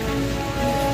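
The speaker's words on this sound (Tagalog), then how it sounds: "Malakas-lakas na yung ulan." Heavy rain pours steadily on a surface during a stormy road trip home, a dense continuous hiss with no speech.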